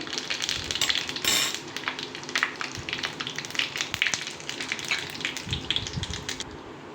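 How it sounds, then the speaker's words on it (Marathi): Crackling, spattering sizzle of cumin seeds hitting hot oil, busy and close, with sharp pops scattered throughout before it quietens at the end. "त्याच्यानंतर मी अर्धा चमचा जिरे घालते।"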